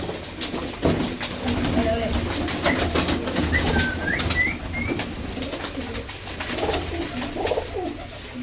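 Pigeons kept at a pigeon-fancier's loft coo in soft, low, repeated phrases amid a busy outdoor background, with a few brief higher calls and murmuring voices nearby.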